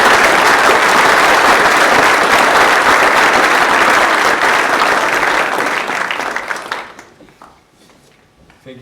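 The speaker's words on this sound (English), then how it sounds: "So if we all give a round of applause" A school sports celebration crowd gives loud, sustained applause for a guest speaker. The clapping is close and dense, then tapers off over the last couple of seconds and leaves only a few scattered claps and room murmur.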